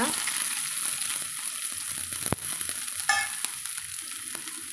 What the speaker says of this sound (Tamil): கடுகு பொரிஞ்சதும் நம்ம ஒரு கைப்பிடி அளவுக்கு சின்ன வெங்காயம் வந்து வெட்டி வச்சுக்கிறோங்க அதை சேர்த்துக்கலாங்க